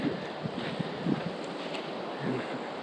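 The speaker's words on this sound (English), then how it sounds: "It comes in waves. These gusts of wind." Wind gusts surge through woods during a tropical storm, a rushing, buffeting roar that swells and eases in waves close to the microphone.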